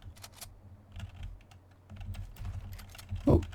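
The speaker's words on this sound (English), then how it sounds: "you can hear my keyboard going click click click" Computer keyboard clacking away in quick, uneven bursts of clicks during a Fortnite gaming session, close and moderately loud, with a louder cluster of keystrokes near the end and no talking.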